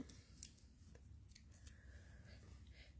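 Scissors cutting a small piece of gift wrap, heard as a few quiet close snips and paper rustles over a low background hum.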